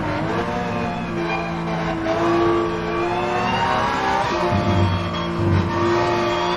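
Race car in the Rennsport sim racing game, a flat-spotted car driving with a continuous engine drone, revs rising and dipping through corners, with rougher grinding bursts toward the end.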